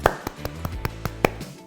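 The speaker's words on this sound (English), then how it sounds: "Come on, can we get a round of applause?" Hands clapping, a few slow, separate claps at close range, sharp and evenly spaced, at the end of a cooking video for crispy orange chicken.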